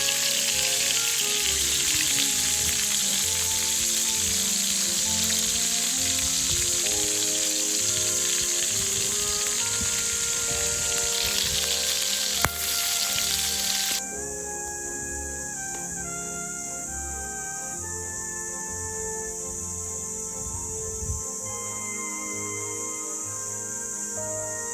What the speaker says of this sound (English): A small squid cooks in just a few minutes.